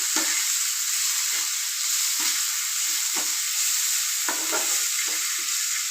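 Ground spice masala fries in a hot pan with a continuous bright sizzle, while a spoon scrapes and stirs in short, irregular strokes.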